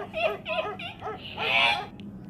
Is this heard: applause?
no